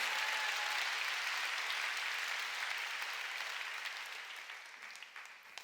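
A church congregation applauds during a Sunday worship service, sustained clapping from a large crowd that holds steady and slowly fades toward the end.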